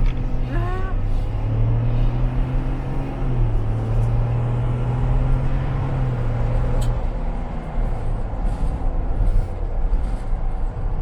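A 2021 Ford Bronco's 2.7-litre engine with a 10-speed transmission drones steadily as the truck climbs an off-road trail near Moab. Its tone shifts pitch once partway through, and faint voices sit under the constant rumble.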